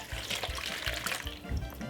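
Water from a tap runs and splashes as something is rinsed under it in a kitchen, a short, close trickle with intermittent splashes.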